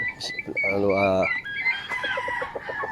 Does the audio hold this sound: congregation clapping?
no